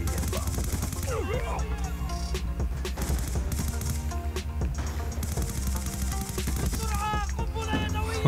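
Rapid PDW gunfire in a Black Ops 2 online match on Wii U, quick repeated shots over a constant bed of music and game noise, with faint voices underneath.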